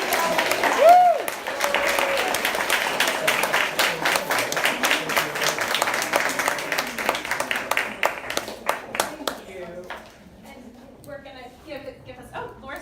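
A crowd applauds steadily for several seconds, the clapping thinning out and stopping, with a voice speaking briefly at the start and after.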